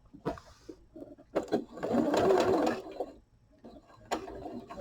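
A sewing machine joins quilt squares for a deco quilt-along block, running in one steady burst of stitching near the middle, framed by softer ticks and handling clicks before and after.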